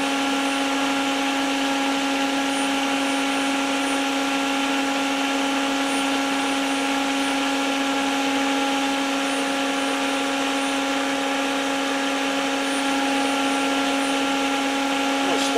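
A spindle motor driven by a Yaskawa spindle drive runs with a steady electrical whine and hum, unchanging and continuous throughout.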